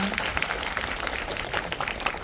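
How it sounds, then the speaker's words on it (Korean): Audience applause at a Korean film premiere talk event for 12.12: The Day, a dense, steady patter of many hands clapping in a hall, moderately loud and continuous throughout. "저 박수 한번 부탁드리겠습니다"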